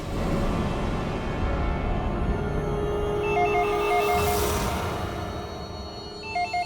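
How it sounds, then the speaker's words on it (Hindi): A telephone left behind in a resort rings in a TV crime drama. Two short bursts of electronic ring tones sound partway through, over a dense, steady background bed. "फोन उठाओ"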